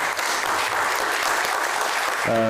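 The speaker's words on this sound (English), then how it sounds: "A round of applause for them as well." An audience at a corporate gathering applauds the hosts, loud sustained clapping from a large crowd that cuts off into a voice near the end.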